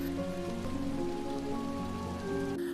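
Heavy rain pours steadily and continuously, a dense wash of drops heard over soft tonal music with no pauses.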